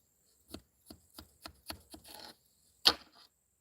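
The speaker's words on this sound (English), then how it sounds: "Get my taters cut up." Potatoes are chopped on a board inside a Toyota Prius while car camping, six crisp knife thuds in a slightly uneven rhythm, then a pause and a sharper final cut.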